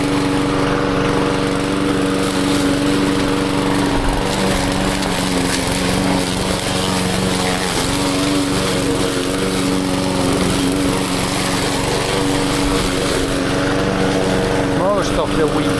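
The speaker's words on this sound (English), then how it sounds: "There's like a ditch here, so I can't really mow this very well." A lawn mower runs steadily and loudly up close while mowing grass and weeds in a garden near a ditch, a constant engine drone throughout with faint talking underneath.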